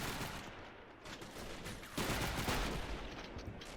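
Distant rattling rifle and machine-gun fire in a Men of War Assault Squad 2 battle at the Brest fortress, a steady fusillade of shots that swells louder midway.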